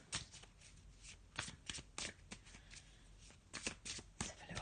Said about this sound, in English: I'm just going to have a shuffle with this black and white Faulkner deck